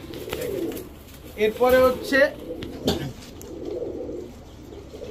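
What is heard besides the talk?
high flyer red pigeons cooing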